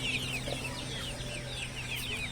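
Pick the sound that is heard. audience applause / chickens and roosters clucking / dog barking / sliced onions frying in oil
chickens and roosters clucking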